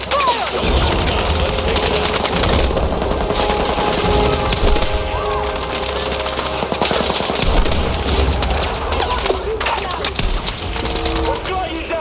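Sustained automatic gunfire and scattered explosions in the Battlefield 6 mission "The Rock", loud and continuous for the whole stretch, with a voice shouting orders amid the battle.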